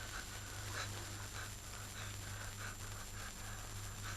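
A dog whimpering softly with rhythmic panting and sniffing, faint and close over a steady low background hum.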